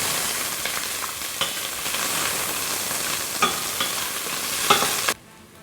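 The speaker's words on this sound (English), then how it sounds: "now I'm getting ready to fry the onions" Onions fry in oil heated on high in a pan for a lamb and okra stew, a dense steady sizzle with occasional sharper crackles, close and continuous until it cuts off abruptly near the end.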